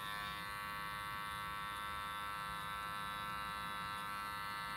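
Professional wall-style electric hair clippers buzz steadily during a boy's haircut, a constant close mechanical hum with a bright harmonic whine, running alone without talk.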